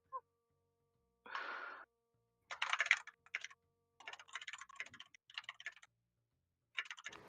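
A game master types on a computer keyboard during a tabletop Dungeons and Dragons session, several bursts of quick clicking keystrokes separated by short silences, fairly close and alone.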